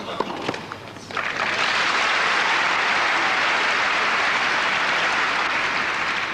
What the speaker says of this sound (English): We don't want to see applause of that sort of situation.